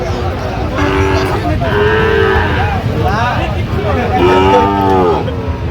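Several loud, drawn-out moos from Sahiwal bull calves at a cattle market in Kushtia, one after another, over a constant background hum of crowd and market noise.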